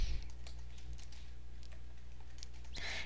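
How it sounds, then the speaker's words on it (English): Light keyboard clicks from someone typing a name on a computer keyboard, soft and close, scattered irregular taps over a steady low room hum. "You can go ahead and type in your name"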